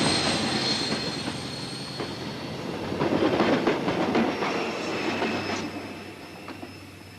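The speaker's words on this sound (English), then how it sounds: "The train departed without him." A passenger train departs a station on the Bristol to London line, railcars rumbling and clattering over the track with clickety-clack rhythm and brief wheel squeal, steady and fairly close, with no talk.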